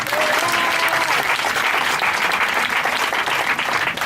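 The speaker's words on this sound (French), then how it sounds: "Est-ce qu'on peut acclamer le Seigneur?" Church congregation applauding to acclaim the Lord, a dense, steady wave of clapping throughout with a faint crowd murmur beneath.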